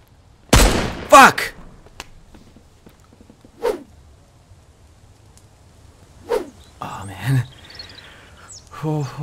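Sporadic gunfire from snipers at an enemy camp in the video game Mist Survival, a few sharp, separated shots spread out over quiet stretches, with some brief voice and movement sounds between them.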